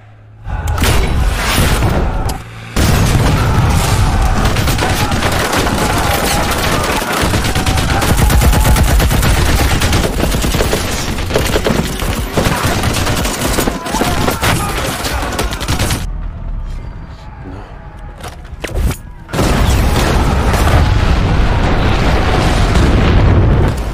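Intense battle from a Russian special forces film: near-continuous loud gunfire, automatic bursts and heavy explosions, with a brief drop around two seconds and a quieter lull near sixteen to nineteen seconds before the barrage resumes.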